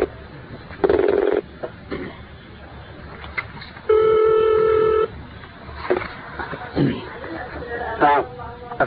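A telephone rings on an Arabic call-in line, steady tonal bursts of the ring sounding clearly and fairly loud between stretches of low background noise and brief voices.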